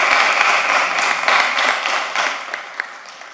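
Applause at a city commission meeting, a moderate group clapping steadily and close, then fading into a few scattered final claps.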